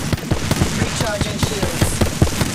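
Fuse's Knuckle Cluster going off in Apex Legends: a rapid string of small popping explosions, crackling and overlapping at close range, with game chatter and a short tonal cue mixed in.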